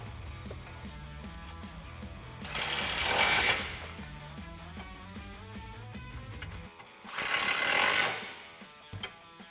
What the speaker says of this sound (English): Grab your 13mm socket, and again, I like to use the extension to go over the rear sway bar, and we're going to tighten them down.